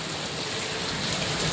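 Heavy rain pours down in a dense, steady hiss of drops drumming on surfaces, continuous and fairly loud throughout.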